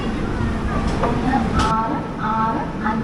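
The 20923 Tirunelveli–Gandhidham Humsafar Express pulls out of Kozhikode station, a steady low rumble of rolling wheels and coach noise with faint clanks, while people talk nearby over it.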